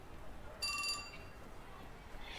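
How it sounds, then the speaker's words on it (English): In the video game 428 Shibuya Scramble, a phone's email notification gives one short, bright ringing chime of under half a second, faint over a quiet background. "Just then, Minorikawa's phone chimed in."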